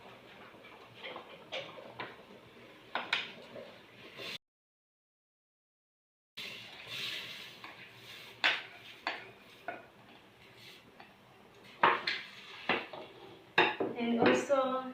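White rice, 1.5 cups, goes into a cooking pot amid sharp clinks and rattles of cookware, a brief silent gap, then a denser rattling burst near the end.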